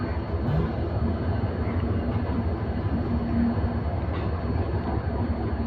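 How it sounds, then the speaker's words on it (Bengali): The Nilsagar passenger train, bound for Chilahati, rolls into platform 8 at a railway station. It makes a steady, heavy rumble with a continuous low roar that holds at an even level throughout. "নীলসাগর ট্রেন 8 নম্বরে চলে যাচ্ছে।"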